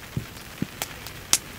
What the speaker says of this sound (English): it's that kind of rain where it's like, yeah, okay, it's raining